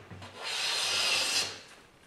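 Hand plane cutting a thin wood shaving, a single smooth hissing swish that swells over about a second and then tapers off, close and alone.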